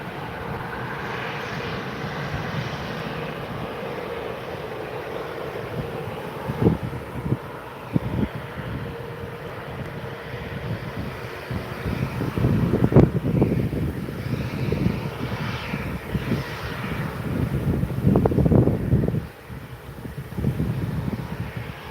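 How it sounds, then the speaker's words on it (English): A Jet2 Boeing 737-800 taking off from runway 23L at Manchester Airport, a distant jet roar building under wind noise and swelling loud near the end. "next to take 2-3 left is the Jet2, Boeing 737-800"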